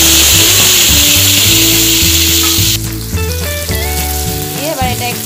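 Boiled potatoes fry in mustard oil and ghee with tempered spices for a mochar ghonto, a loud steady sizzle with scraping stirs and clinking utensil knocks throughout, close up, with no talking.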